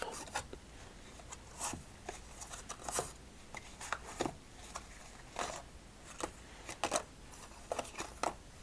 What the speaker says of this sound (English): Let's do a casino shuffle.